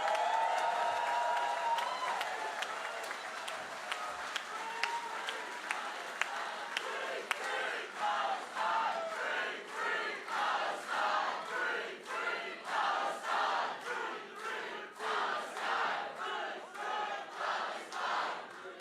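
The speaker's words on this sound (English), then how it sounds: "please do give a massive round of applause for Frank" A rally audience at a political conference applauds and cheers for a speaker, opening with loud cheering that settles into rhythmic, regular clapping in unison, moderately near and sustained.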